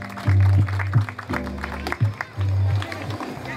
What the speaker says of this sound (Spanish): recibámoslo también con fuertes aplausos